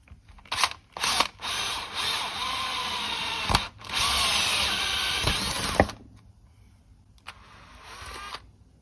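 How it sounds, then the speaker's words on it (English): Several short bursts of a small power drill whining near and loud as it drills small holes in wire connectors, then two longer sustained runs, with quiet pauses between. "So I just drill 2 little holes in them to feed the solder in."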